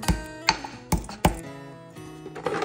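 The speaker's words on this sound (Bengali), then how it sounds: "ছোট এলাচটাকে থেতো করে নেবো হামালদিস্তাতে" Green cardamom crushed in a mortar and pestle: four sharp metallic strikes with ringing overtones in the first second and a half, then fainter scraping and a light final knock.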